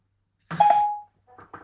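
A phone places a call: one clear electronic tone lasting about half a second, then a short pause and a pair of brief, quieter pulses, all isolated in silence.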